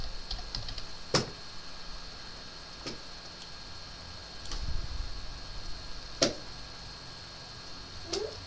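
Sparse, isolated key taps on a computer keyboard while entering text in Microsoft Word, a few distinct clicks spaced a second or two apart over a quiet background hum.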